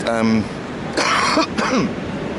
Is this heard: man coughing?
yes